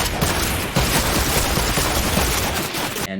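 A dense, continuous barrage of rapid gunfire from a God gun in Fortnite Creative fills the whole stretch at full loudness, with no pauses.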